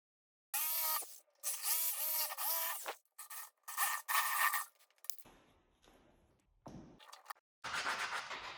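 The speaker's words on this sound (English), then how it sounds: "Then you can use some 120 grit sandpaper to sand it down." Hand sanding of a jigsaw-cut wooden circle with 120 grit sandpaper, a series of close, scratchy back-and-forth strokes in short bursts separated by pauses, with no talking.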